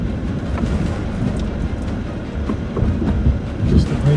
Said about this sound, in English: So what the noise you can hear is basically the brakes just coming on.